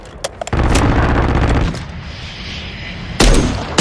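KV Inhibitor sniper rifle fire in Call of Duty Modern Warfare 3: a few sharp clicks, then a heavy booming shot with a long rumbling tail, and a second loud blast near the end.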